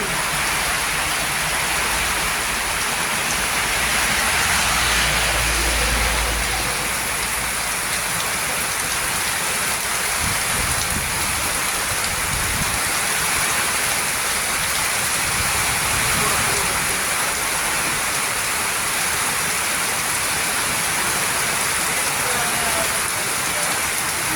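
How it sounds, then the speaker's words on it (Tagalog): Heavy, wind-driven rain falls during the Philippine rainy season and blows in through a doorway. It makes a dense, continuous roar that stays loud and close for the whole stretch. "Pumasok na sa pinto ang ulan"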